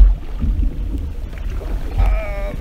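A boat is paddled across Lake Orion, Michigan, in the rain. Low, steady water and wind rumble runs throughout, with a fuller splash of water close by near the end.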